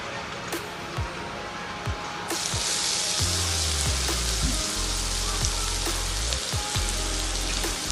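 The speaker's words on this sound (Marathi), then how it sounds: "आपला हा कांदा छान गोल्डन ब्राऊन परतून झालेला आहे" Finely chopped onion sautéing in oil for egg masala makes a loud, dense sizzle that swells after a couple of seconds. Low thumps and tonal sweeps sound underneath, and nobody speaks.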